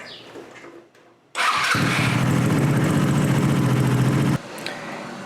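A GY6 scooter engine, freshly tuned at the carburetor, cranks and fires up abruptly, then runs at a loud steady buzzing idle for several seconds before dropping off.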